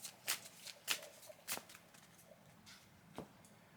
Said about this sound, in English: So I'll shuffle really quick.